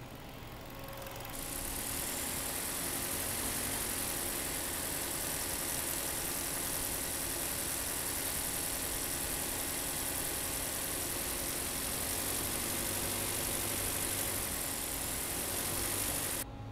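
A 2014 Kia Forte engine idles steadily at 1,000 RPM with a continuous, even hum and faint vibration, heard close up and alone for the whole stretch with no talk.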